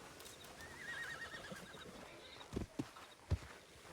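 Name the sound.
horse neighing and hooves in video game Red Dead Online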